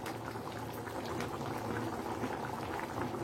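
Soup with meat and zucchini boiling in a pot, a steady bubbling and simmering texture that continues evenly throughout, fairly quiet and close with no voices.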